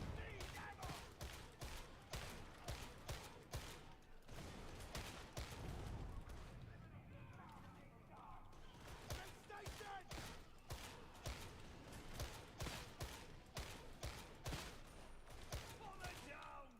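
Las guns blaze in the video game Darktide, a steady stream of rapid, punchy energy shots with brief gaps, sustained throughout while a person talks underneath.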